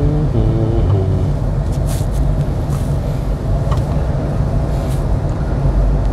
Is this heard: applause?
no